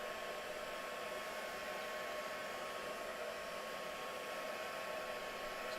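Hair dryer blowing on wet paint during a live painting demo, a constant loud broadband whoosh that runs steadily throughout with no talking.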